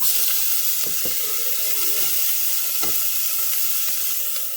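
A steady soft sizzle of onions sweating gently in a little oil, a continuous hiss with occasional faint clicks of stirring, no voices.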